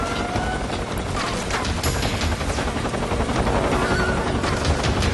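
A dense, steady roar of helicopter rotors in the video game Metal Gear Solid 3, with scattered gunfire crackling underneath, loud and continuous throughout.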